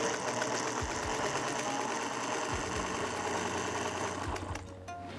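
A vintage sewing machine driven by a metal foot pedal runs in a steady, fast mechanical chatter of needle strokes, close and continuous, with a brief change near the end as it slows.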